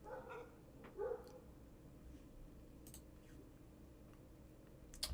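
Dogs barking outside an open window, a few distant, faint barks and yips scattered over a quiet room background with no speech.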